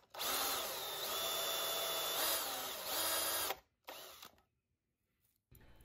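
A power drill bores out holes in a plastic mounting plate, whining loudly and steadily for several seconds with small pitch dips, then stopping, followed by a short second burst and a brief final whir.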